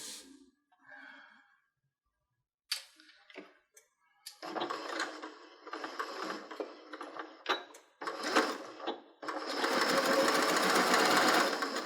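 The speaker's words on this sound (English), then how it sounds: "I'm going to sew all these 21 petals together" A sewing machine stitches small fabric Dresden petals together in bursts that start and stop, running close and clear, with a longer continuous run at the end.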